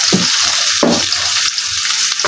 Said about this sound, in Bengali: মাছের জন্য এই যে কড়াইতে তেল দিয়ে দিলাম, পেঁয়াজ কুচি দিয়ে দিচ্ছে